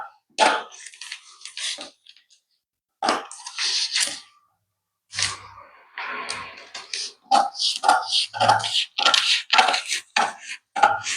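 Paper for a V-neck gown pattern is cut with scissors in close, crisp bursts of snipping and crunching, separated by short silent pauses and growing more continuous toward the end.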